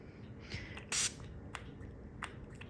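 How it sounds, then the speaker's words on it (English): A quick hissing burst of a spray bottle misting water while making crusty baguettes stands out against a quiet room, followed by a few softer clicks and small sounds. "I'm just using my spray bottle."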